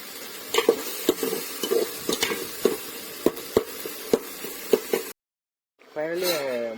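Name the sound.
stir-frying radish in pan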